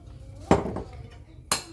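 A spoon stirs ingredients in a bowl, with two sharp clinks against the rim about a second apart and faint scraping between them, close and quiet.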